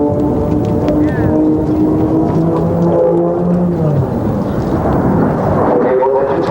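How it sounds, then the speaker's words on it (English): An Aero Commander twin-engine aircraft dives at an air show with both engines at full power, a loud droning roar with shifting engine tones throughout, under an announcer's voice. "Now, both engines will be running full until he gets near the bottom of the dive"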